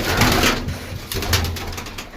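Pigeons coo at a loft or gathering amid loud, broadband background noise, their low calls rising and falling under the general din.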